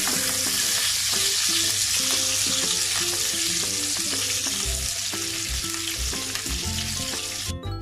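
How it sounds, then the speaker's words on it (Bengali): Sliced onion and garlic fry in oil, sizzling loudly and continuously, with light scraping of stirring throughout and no talk. "পেঁয়াজ আর রসুনগুলো আমি এরকম চাক করে কেটে নিয়েছি। এখন সামান্য একটু ভেজে নিচ্ছি।"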